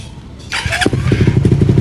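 A Raider Fi motorcycle engine cranks and catches with a thump, then settles into a loud, close, rapid throbbing idle with no talk over it.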